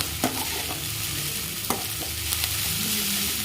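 Ingredients for paniyaram sautéing in a pan, a constant close sizzle with a few scattered scrapes and taps of a spoon stirring, no voices.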